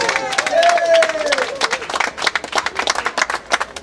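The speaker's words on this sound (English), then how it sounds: "Give yourself a round of applause." A crowd claps and applauds, a dense patter of many hands that swells and continues, with a voice speaking over the start.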